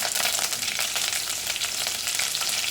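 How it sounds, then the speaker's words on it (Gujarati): Dry red chilies, bay leaf, curry leaves, mustard seeds, cloves and asafoetida tempering in hot oil for Gujarati dal, giving a steady, fairly quiet frying hiss with faint crackles and no voices. "થોડી હિંગ સાતળી લેવાનું આટલું"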